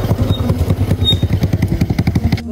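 Motorcycle engine chugging nearby with a fast, steady pulsing putter and some rattling clatter, holding at a constant loud level before cutting off at the end.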